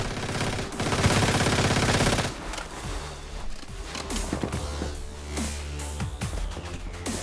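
Rapid bursts of gunfire from the survival shooter game Once Human, loud and dense, rattling in quick volleys with heavy low thumps and sharp cracks throughout.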